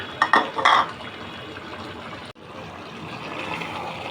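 Mixed vegetable labra in a pot being stirred with fried onions: a few clattering scrapes and knocks of a spoon against the pot early on, then a steady low simmering hiss with no talking.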